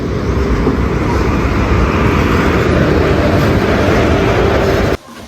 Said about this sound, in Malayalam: നമ്മളെ ട്രെയിൻ ഇതാ വന്നുകൊണ്ടിരിക്കുന്നുണ്ട്